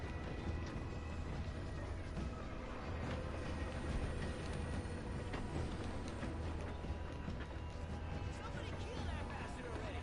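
A train in Red Dead Online rumbles along steadily with a continuous rolling clatter of wheels, close and dense throughout.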